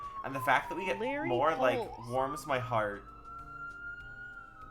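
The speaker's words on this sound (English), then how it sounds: "sorry for the siren" A siren wails outside, first faintly under a person talking, then as a clear, steady, slowly rising tone once the talking stops.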